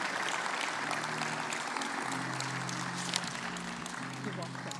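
A conference audience applauds to welcome a speaker to the stage, sustained dense clapping with a faint low hum underneath and some mixed background noise.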